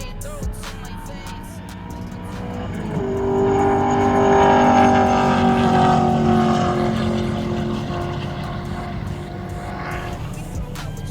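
A 1987 Cutlass race car makes a half-mile pass, its engine droning and rising through the gears as it builds to a loud, sustained peak before easing off at a distance.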